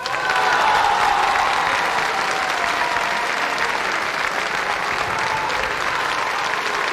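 Audience applause for the singer, a dense, sustained wash of clapping from a large crowd that holds steady and loud throughout, with no voices over it.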